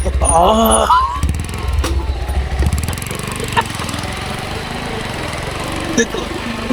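A Lexmoto Hawk R9 motorcycle engine drones steadily while riding, with a brief harmonic burst at the start and continuous rushing wind and road noise under the engine note.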